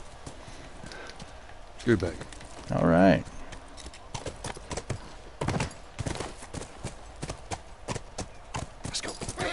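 Horse hooves clip-clop in The Last of Us, a steady close walking rhythm running through the gameplay, with a couple of louder bursts and someone talking over it.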